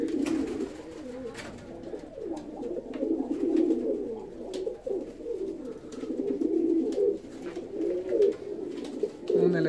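Fancy ornamental pigeons coo continuously in their numbered loft boxes, a soft, steady chorus of overlapping rolling coos from several birds, moderately near with no talking.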